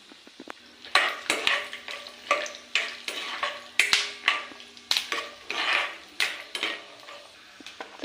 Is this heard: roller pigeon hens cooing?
no